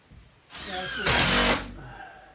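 A power drill driving screws into a wooden shed wall under construction, a close, loud whine that rises in pitch and strains for about a second before stopping.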